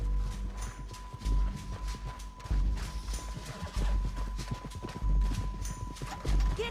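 Horse hooves clopping in an uneven gait with a whinny in the Red Dead Redemption 2 video game, close and fairly loud, with thuds in between.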